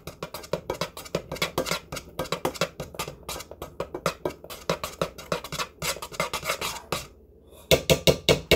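Mint chocolate Rice Krispie treat mixture being stirred in a bowl, a steady run of quick scraping, rasping strokes with a brief pause before a few louder final scrapes.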